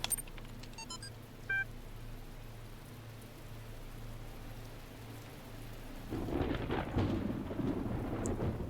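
Rolling thunder and steady rain in the video game The Talos Principle, a faint storm bed that swells into a louder, close rumble with heavy rain near the end, preceded by brief electronic beeps.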